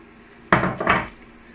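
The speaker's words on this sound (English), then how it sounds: "I'm going to just add all my silken tofu here that I've blitzed up" Blended silken tofu goes into a pan with two quick clattering knocks of utensil against cookware, close and fairly loud, then fades back to a quiet background.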